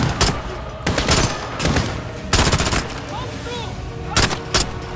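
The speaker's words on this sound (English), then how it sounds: "Why do they keep shooting in the street?" Gunfire cracks along a street in Call of Duty: Modern Warfare, with loud rapid bursts and single shots recurring close by against a busy battle backdrop, while voices talk over it.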